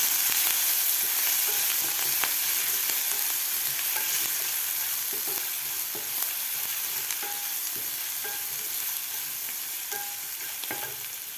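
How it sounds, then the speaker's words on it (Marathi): Green chili, ginger and garlic paste sizzles steadily in hot oil for a Marathi tempering, with close, continuous frying hiss and scattered stirring scrapes and clicks of a spoon against the pan, no voices. "हिरव्या मिरची आलं आणि लसूणचं ते व्यवस्थित आपल्याला परतून घ्यायचं आहे"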